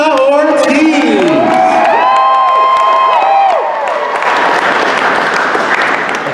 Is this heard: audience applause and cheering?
yes